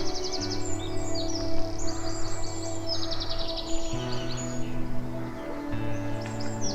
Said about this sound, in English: the air is filled with birdsong